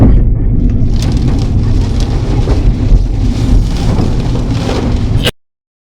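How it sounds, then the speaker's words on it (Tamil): Heavy rain pours during a scooter ride on the winding hill roads of Valparai, a steady loud roar of rain and wind noise that cuts off abruptly at the end. "ஒரு 4th பெண்டுலேருந்தே செம்ம மழை வந்துச்சு"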